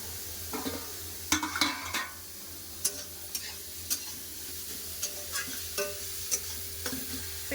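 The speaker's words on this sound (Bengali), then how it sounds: "কেটে রাখা পেঁপা ভালো করে আমি তেলের সাথে কষে নেবো" Chopped papaya sautéed in oil with panch phoron and a dried red chilli for chutney: a steady soft sizzle with repeated sharp scrapes and taps of a spoon against the pan, spaced irregularly.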